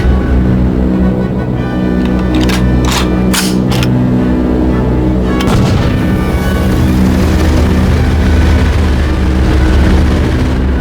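A signal flare fired from a downed aircraft in the PC flight game Aviators, heard as a few sharp bursts in quick succession followed by a sustained whooshing rush, all over a steady low engine-like drone.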